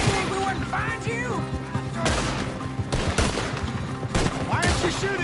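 Gunfire in a Red Dead Redemption 2 shootout, sharp repeated shots and crashing impacts in irregular volleys, loud and close, mixed with shouting voices and galloping hoof-like thuds.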